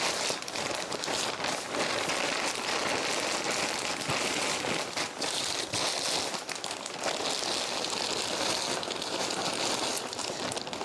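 Rain falls outside as a steady, dense hiss of drops with scattered crackling patter. It stays fairly soft and even throughout, with no voices.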